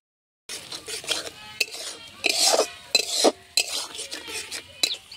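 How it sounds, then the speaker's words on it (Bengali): Spices being stir-fried with salt in a pan for a bottle gourd curry, heard as repeated scraping and clinking of a spatula against the pan in uneven strokes, close and fairly loud, with a faint sizzle underneath. "এটা খুব ভালো করে মশলা কষিয়ে নেব যতক্ষণ না পর্যন্ত মশলার গায়ে থেকে তেল ছেড়ে আসছে"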